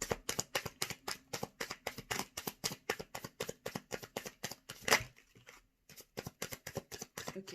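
Tarot cards shuffled by hand in quick, even riffles, a dense run of crisp slaps and flicks close up, pausing briefly before resuming.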